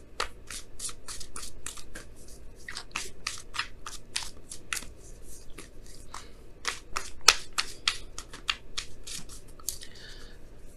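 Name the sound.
shuffling and pulling an oracle card from deck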